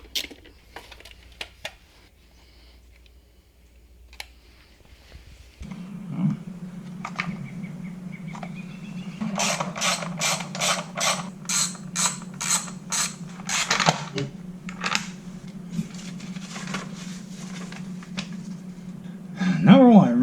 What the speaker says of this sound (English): let's go ahead and start taking off this air cleaner.